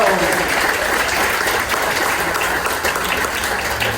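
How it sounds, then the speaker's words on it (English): An audience at a gubernatorial forum in Palm Beach gives steady, full applause, a loud continuous wash of clapping filling the room for several seconds. "Let's get a round of applause for Rolando."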